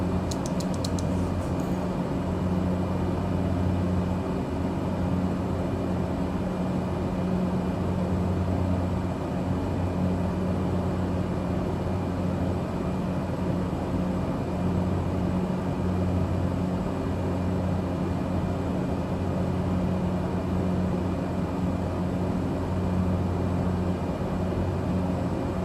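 Cessna Caravan 208 in flight in Microsoft Flight Simulator 2020, a steady droning turboprop engine rumble with a constant tonal hum, loud and unbroken throughout with no talking.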